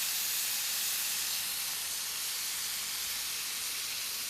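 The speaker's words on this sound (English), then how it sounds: "you want to stir fry that around. And 2 tablespoons of low salt soy sauce" Food stir-fries in a NutriWok with Shaoxing rice wine and low-salt soy sauce, giving off a loud, close, steady steamy hiss and sizzle for the whole stretch.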